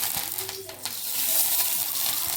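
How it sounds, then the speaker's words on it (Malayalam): Mustard seeds crackle in hot oil as tempering for a mint chutney, a bright sizzling hiss with a few sharp pops, close and brief. "താളിക്കാൻ കടു ഇട്ടിട്ടുണ്ട്"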